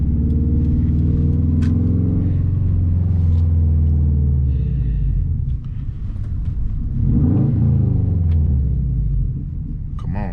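A 2011 Subaru WRX Premium driving at night produces a loud, close engine drone with a low rumble from the cabin, rising and easing with throttle, and no talk.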